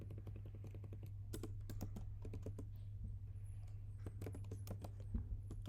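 Code is typed on a computer keyboard in quick, uneven bursts of close, crisp key clicks over a steady low hum, with short pauses between runs.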